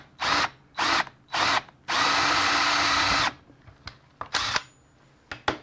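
A power drill bores a large hole through a motorcycle gauge housing. It runs in three short bursts, then one long sustained run of about a second and a half, then several brief stuttering pulses with gaps between. The drill is loud and close, and no one speaks.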